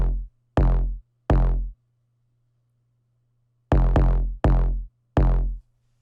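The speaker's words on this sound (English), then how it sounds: "we're gonna use the Shug 808 as sort of like a kick" Shug 808 bass hits used as a kick in a trap beat: three deep, booming notes spaced evenly, a pause under a low sustained hum, then four more loud decaying hits in steady rhythm.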